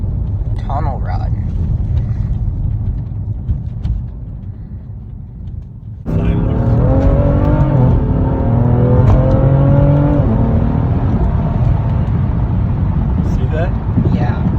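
A modified 660 hp BMW F80 M3 Competition with a DCT gearbox accelerates hard through a tunnel, a low idle giving way to a sudden loud, echoing roar that climbs through rising revs and gear changes, with people talking over it.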